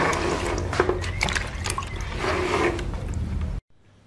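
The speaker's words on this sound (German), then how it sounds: "das Seil wird poliert, indem ich mit Wasser den Leim löse, der in der Faser ist" Water is worked into a rope at a ropemaking museum to loosen the glue in its fibres, giving wet squishing, dripping and trickling sounds close up before cutting off abruptly near the end.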